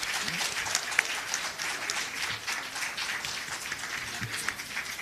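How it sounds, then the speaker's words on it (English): Steady applause from a debate competition audience, many hands clapping evenly at moderate volume without letup, a few voices faintly underneath. "A round of applause for the exchange."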